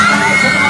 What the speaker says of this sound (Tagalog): Sigawan talaga bawat daan ni Zaira oh.